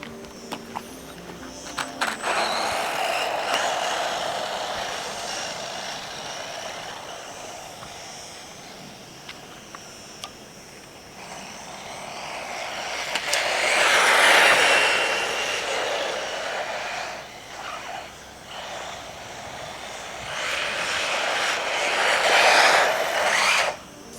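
A WLTOYS 184016 mini monster RC truck drives with a high electric whine and rasping rush that swells and fades as it speeds past, loudest around the middle and end, with no talking.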